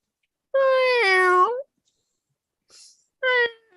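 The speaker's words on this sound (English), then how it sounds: "You didn't name your cat after Bruce Briscoe, did you?" A domestic cat meows loudly twice, a long drawn-out wail followed by a shorter cry, with a brief faint noise between them and nothing else in the background.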